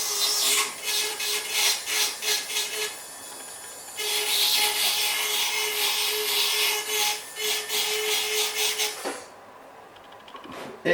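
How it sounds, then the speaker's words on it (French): Metal scraping as a casting sprue is filed off a cast metal tooth, a harsh rhythmic rasping in repeated strokes, loud and close, ending in a brief pause near the end. "Et je vais gratter la tige de coulée du support"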